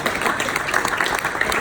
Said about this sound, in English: Round of applause to our beautiful bar staff.